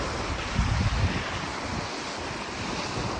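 Waves crash on the Lake Superior shore in steady broadband surf, loud and close, with wind buffeting the microphone and a heavier rumbling surge early on.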